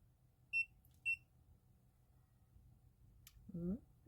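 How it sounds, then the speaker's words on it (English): Two short, clear electronic beeps from a Tymo hair straightener, close and distinct against a quiet background, followed by a brief voice. "Did you hear the beep?"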